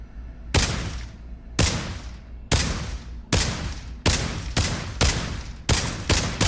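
SKS rifle shots in the Pavlov video game, about nine sharp, loud reports fired one at a time at a fairly regular pace, each trailing off in a brief echo.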